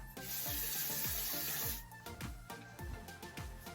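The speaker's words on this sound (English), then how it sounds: "So first things first, let's wash our hands." Tap water pours steadily into a sink for about two seconds as hands are washed, then stops, leaving soft splashes and drips.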